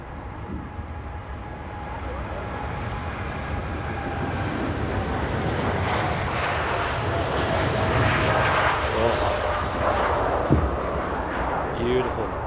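A Boeing 787-9 Dreamliner at Manchester Airport roars loudly with a broad, building jet-engine rumble that swells steadily and stays heavy through the whole stretch.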